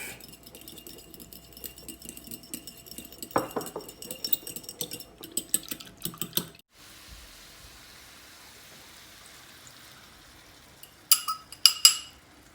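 A metal utensil scrapes and clinks against a pot while stirring a meat dish, in scattered bursts with a quiet gap midway, then a few sharp clinks near the end.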